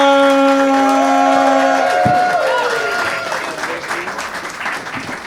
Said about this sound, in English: So I need you to clap your hands right now. Clap your hands right now. Make some noise and give it up for Benny Nwokeabia!